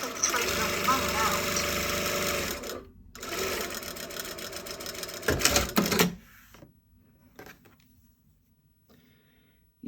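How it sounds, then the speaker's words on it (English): A sewing machine sews a seam, beginning with a back tack, its motor rattling in a fast steady run that pauses briefly, resumes, then winds down, with a voice talking partway through and quiet afterward. "I'm going to start with a back tack"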